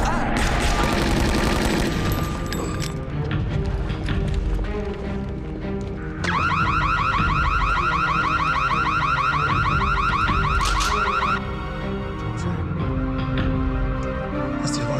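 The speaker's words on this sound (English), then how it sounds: "That's the alarm for the vault." A vault alarm blares a loud, rapidly pulsing electronic ring for about five seconds, set amid heavy rumbling and crashing noise before and after.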